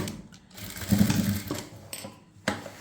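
A sewing machine stitches a seam across the shoulder of a kurti top in short, close bursts of rapid mechanical clatter separated by brief pauses.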